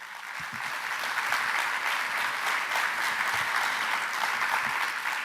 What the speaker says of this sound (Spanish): Un aplauso para don José.